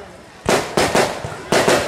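Firecrackers burst outside a village stage drama in Tamil Nadu as a loud, close series of sharp cracks, about five bangs in quick succession over a noisy crowd background.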